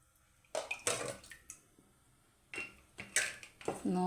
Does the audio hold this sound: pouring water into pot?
yes